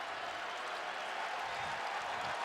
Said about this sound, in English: And hearing it from the crowd, it is now a standing ovation.